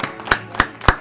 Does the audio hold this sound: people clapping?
yes